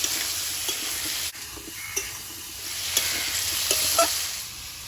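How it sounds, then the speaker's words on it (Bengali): Snake gourd frying in a pan with salt and turmeric, giving a continuous sizzle broken by intermittent scraping stirs and light utensil knocks, with no voices. "লবণ গুঁড়ো লবণ হলুদ দিয়ে সবজিটা ভালোভাবে ভেজে নেব"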